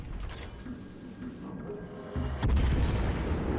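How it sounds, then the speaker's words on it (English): Naval gunfire in World of Warships Legends, with enemy shells aimed at a Tier 7 Anchorage premium cruiser: a steady mechanical rumble that swells into a louder, denser burst of booming fire near the end, with no talk. "everybody on the red team is taking a shot at us"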